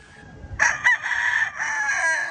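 An Asil rooster about nine months old crows once nearby, a loud, drawn-out call lasting over a second, with no talking around it.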